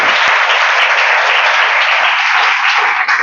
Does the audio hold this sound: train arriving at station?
no